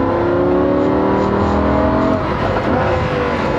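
A Lamborghini Huracan sports car accelerates hard on a racing track in Las Vegas, its loud, close engine note climbing steadily in pitch through a continuous roar before a brief dip as it shifts.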